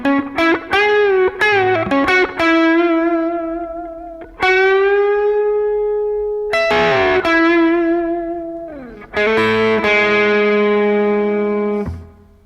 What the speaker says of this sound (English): the first line of the guitar solo sounds like this